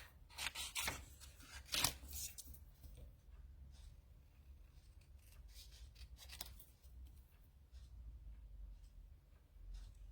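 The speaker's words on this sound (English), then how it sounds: "And now let's cut out our popsicle piece." Scissors cutting out a paper popsicle piece for a landscape corner flip fold craft: a few crisp snips close up in the first two seconds, then quieter rustling and occasional snips on a soft background.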